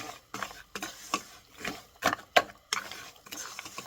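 A utensil stirs and scrapes wheat flour roasting in ghee in a pan, giving a series of short, irregular scraping strokes at close range with quiet gaps between them.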